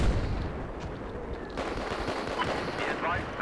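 Shots from a Saiga 12K shotgun in Battlefield 4 pop over a busy background of distant battle noise, with a few sharper reports rising briefly amid the steady din.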